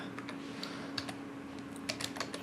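Code typed on a computer keyboard in Android Studio, with scattered light key clicks in short irregular bursts, close but quiet over a steady low hum and no speech.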